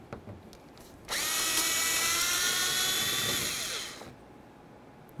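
A T20 screw being backed out of a 1999-2007 Chevy Silverado door panel with a power driver, a single loud high-pitched whine of about three seconds, close and steady, trailing off, with no talking.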